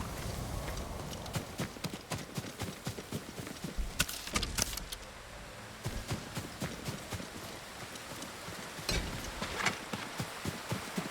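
Steady clip-clop of horse hooves at a walking pace in the video game Ghost of Tsushima, fairly close, with a few louder sharp thumps and scuffs mixed in.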